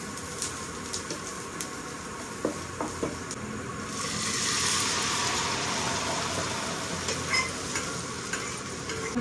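Onion, panch phoron, dried red chillies and a green chilli sizzling in hot oil for a dal tempering, a steady close fry hiss that swells midway, with scattered light clicks and stirring sounds.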